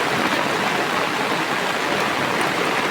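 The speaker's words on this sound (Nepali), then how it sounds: "हेर्नु रोडमा कत्रो पानी हिँडेछ।" Heavy rain pours steadily in Byas, Tanahun, Nepal, with rainwater running down the road outside a house, a dense continuous broadband hiss and rush, close and loud, with no voices.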